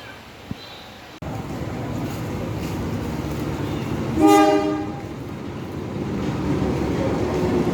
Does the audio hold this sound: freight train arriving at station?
yes